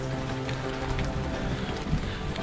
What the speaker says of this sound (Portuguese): Entretanto começou a chover. A chuva vem assim constante